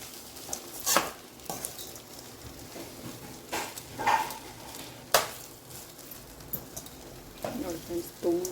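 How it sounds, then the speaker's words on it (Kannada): Gojju avalakki (beaten rice) fries in a pan over a medium flame while a spoon scrapes and taps irregularly, with light sizzling between the strokes. "ನಾರ್ಮಲ್ ಮೀಡಿಯಮ್ ಸಿಮ್ಮಲ್ಲೇ ಚೆನ್ನಾಗಿ ಫ್ರೈ ಮಾಡ್ಕೊಡು."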